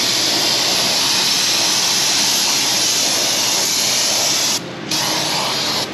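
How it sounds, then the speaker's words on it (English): O'Reilly's brake cleaner sprays steadily onto the brakes of a Chevy Cobalt, a loud continuous aerosol hiss that runs close and unbroken for about five seconds, then stops briefly before resuming. "And now it is O'Reilly's brake clean time. Ooh, this stuff sprays good."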